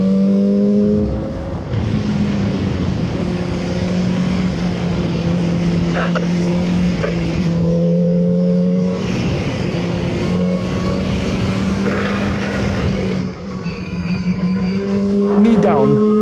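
Voge RR 500 S motorcycle held in fourth gear, a steady droning engine note that rises and falls gently with throttle over sustained wind rush, loud and close throughout.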